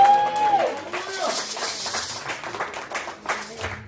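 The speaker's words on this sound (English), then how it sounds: "You guys go ahead and give Jesus a hand clap." A church congregation claps during a Sunday revival service, scattered hand claps building into applause alongside cheering voices and a brief shout, moderately loud and close.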